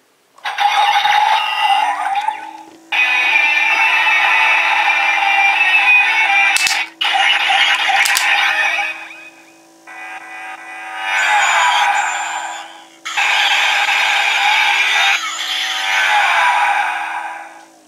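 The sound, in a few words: Kamen Rider Drive DX Shift Tridoron toy shift-up sounds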